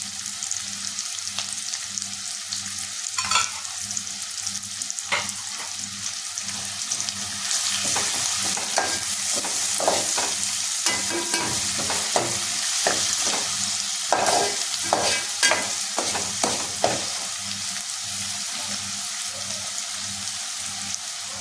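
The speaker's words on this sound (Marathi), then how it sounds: "आता यामध्ये ठेचलेलं लसूण टाकायचं आहे." Crushed garlic sizzling in hot oil for a soybean bhaji, a steady loud fry with a run of sharp crackles and spatters and occasional stirring scrapes, no talking.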